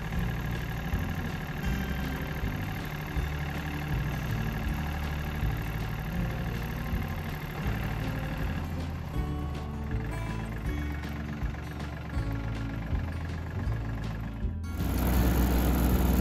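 A tractor engine running steadily while tilling a rice paddy in Kagawa, a continuous low throbbing drone with a rhythmic pulse, near and loud, rising slightly at the end.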